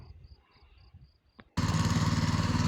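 A walk-behind tractor with tillers hilling potato rows starts after a quiet stretch of faint insect noise, then its small engine chugs loudly and steadily up close.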